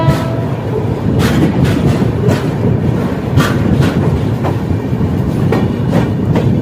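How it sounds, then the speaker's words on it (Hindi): Lohit Express passenger train rushing past on the opposite line, heard from inside a moving train as a loud, steady rumble with faint rhythmic wheel clatter throughout. "सामने से आ रही है लोहित एक्सप्रेस"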